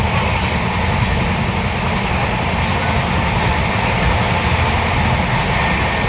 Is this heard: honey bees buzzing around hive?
no